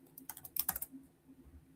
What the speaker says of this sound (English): I keep on clicking shift enter.